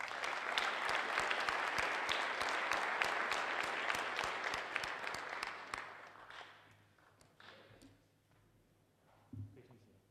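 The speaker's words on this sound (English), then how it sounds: "A round of applause for all the entrepreneurs in the audience." Audience applause for entrepreneurs at an auditorium session, a dense, loud burst of many hands clapping that fades out over the last few seconds, with a faint voice near the end.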